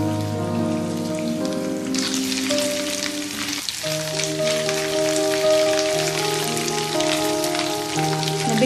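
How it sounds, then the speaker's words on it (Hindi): Garlic ginger paste sautéing in a hot pan for village-style sarson ka saag, a dense steady sizzle and crackle that swells louder after a couple of seconds and holds close up, with tonal hum underneath and no talk. "अब इसमें ये लहसुन अदरक का पेस्ट शामिल कर देंगे और इसको भी इसमें थोड़ा सा सौते कर लेंगे"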